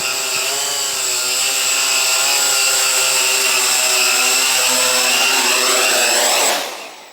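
A Quanum XJ470 quadcopter drone flies in to land, its rotors giving a loud, steady, buzzing whine close by that drops in pitch and cuts out at the end.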